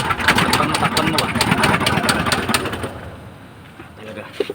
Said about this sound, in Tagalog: So, katok yung makina.